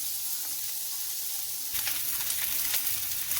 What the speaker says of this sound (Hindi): इसमें हम अपना चिकन रख देंगे और इसको थोड़ा सा दोनों साइड से कलर आने तक फ्राई करेंगे